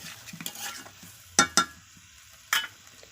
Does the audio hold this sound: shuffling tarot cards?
no